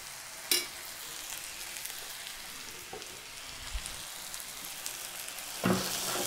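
Pav bhaji masala with salt and turmeric frying in a pan, a soft steady sizzle with a couple of sharp spoon scrapes and clinks while it is stirred, no talking.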